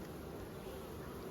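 A dense, steady buzzing of many bees around an opened hive, close and continuous throughout the short moment.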